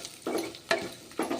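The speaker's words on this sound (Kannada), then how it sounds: "ಈಗ ಇವು ಸ್ವಲ್ಪ ಫ್ರೈ ಆಗಲಿ, ಸ್ವಲ್ಪ ಮುಚ್ಚೋಣ." Red chillies frying in a pan give short, close bursts of sizzling, three quick crackling pulses with quieter gaps between, no voices.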